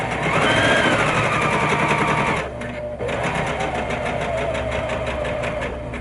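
A sewing machine hums loudly and steadily while stitching a quarter-inch seam along a fabric edge, a brief dip around midway as it slows, then running on to the end.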